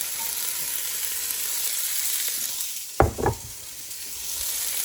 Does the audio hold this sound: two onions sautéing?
yes